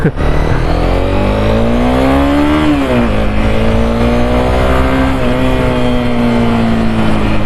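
A Honda CBR 250R single-cylinder motorcycle accelerates hard, its loud, close engine note climbing in pitch, dipping at a gear change, then pulling steadily again in a continuous drone.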